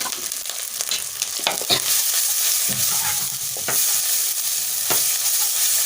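Potato and cauliflower pieces sizzle loudly in a pan with salt and turmeric while a spoon stirs and scrapes them in repeated strokes over a steady frying hiss.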